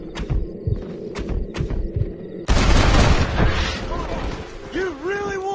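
Gunfire bursts out in a Red Dead Redemption shootout, a loud sustained volley that starts abruptly after a few short sharp knocks, with brief voices and tonal whistling sounds trailing in the latter part.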